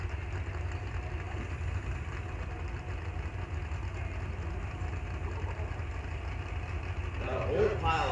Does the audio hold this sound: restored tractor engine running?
yes